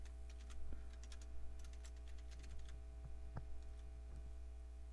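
Steady keyboard typing on a computer, a run of soft, uneven key clicks with a few sharper taps over a constant low electrical hum, fairly close and alone with no voices.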